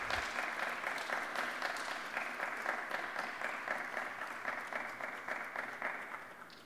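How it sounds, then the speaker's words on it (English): A church congregation applauds in appreciation, with many hands clapping in an even, continuous burst that gradually tapers off toward the end. "So I want you to just give them a round of applause to show them our appreciation"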